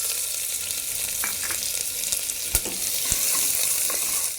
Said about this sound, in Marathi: आता त्यामध्ये मी 1 बारीक चिरलेला कांदा टाकूया।